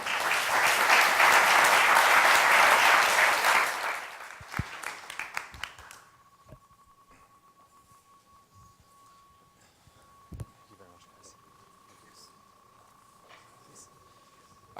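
An audience applauds loudly and densely for about four seconds, then the clapping thins out into a few scattered claps and fades to near quiet.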